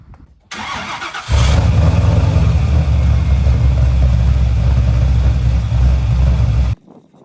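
A 1980 C3 Corvette's V8 engine cranks and fires up, then settles into a loud, deep, rumbling idle close by before cutting off abruptly.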